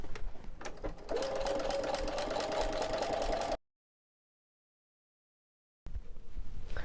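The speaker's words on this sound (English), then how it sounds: "And if you want to, you can do a top stitch. I'm going to do one" A Baby Lock Brilliant sewing machine top stitching a bath robe, rapid steady needle chatter running for a few seconds, then silence, then a brief resumption of quieter machine noise.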